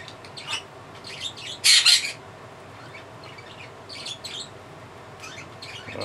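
Blue Crown Conure calling up close: scattered sharp chirps, then a very loud shrill squawk burst, then more short chirps over a quiet room.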